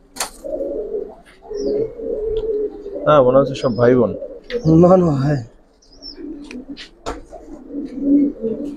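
Giribaz pigeons at a seller's pen give low, soft coos that rise and fall in short runs at the start and end, while people talk loudly over and between them.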